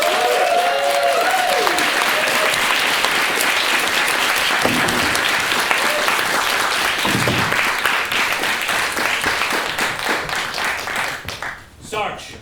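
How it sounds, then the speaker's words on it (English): An improv theatre audience in Glasgow applauds loudly and steadily for about twelve seconds, a dense roar of clapping that tapers off near the end. "Let's give her a round of applause."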